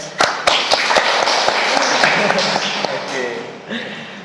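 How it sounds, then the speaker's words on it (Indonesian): A handful of people clap for HMPS during a podcast recording, a few sharp nearby claps at the start, fading into murmuring voices and talk. "Tepuk tangan untuk HMPS."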